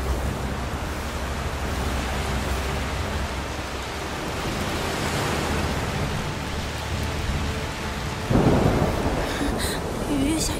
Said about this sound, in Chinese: 雨越下越大了。